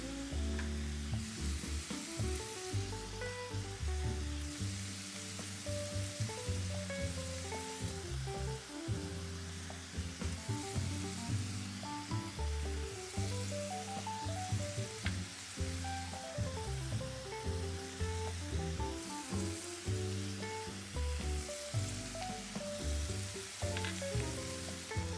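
Ribeye steak for a cheesesteak sub fries on high heat in a pan, a constant loud sizzle with a continuous bed of crackle lasting the whole stretch, overlaid by a busy tonal background.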